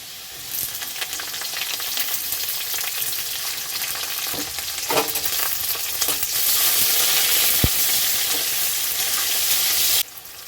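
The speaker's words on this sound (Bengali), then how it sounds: "পেঁয়াজটা বেশি ভাজবো না হালকা লাল লাল করে ভেজে নেব" Onions frying in white oil in a pan for a bitter gourd dal, a steady close sizzle with some stirring clatter throughout, no talking.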